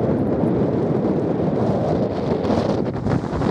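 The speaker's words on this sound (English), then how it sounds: "once I just get up here now, it gets a bit windy" Strong, steady wind buffets the microphone on an exposed fell ridge in the Lake District, a loud continuous roar with gusting surges and no voices.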